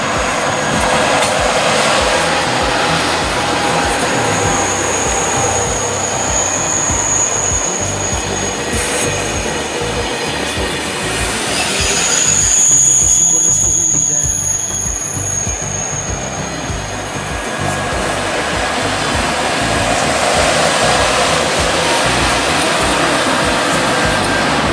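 A French TGV passing at speed, a loud sustained roar of rolling wheels and rushing air with high squealing tones, swelling and then easing over about twenty-five seconds, no voices.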